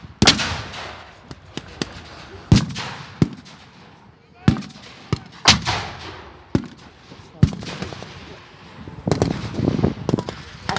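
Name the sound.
Allied 25-pounder artillery gun firing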